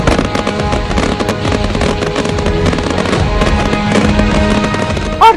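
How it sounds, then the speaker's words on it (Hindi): Fireworks burst over Himachal Pradesh near the Atal Tunnel in a loud, continuous barrage of overlapping crackles and booms, dense and close throughout. "आसमान में रंगों की आतिशबाजी"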